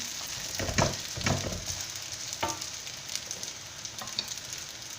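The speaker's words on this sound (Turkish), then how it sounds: "Arkadaşlar bu arada çökelikler pişiyor güzel kızardı." Potato and cottage cheese gözleme flatbread frying on a hot griddle gives a steady, loud sizzle with a few soft thumps and scrapes as the pastry is handled, and no voices.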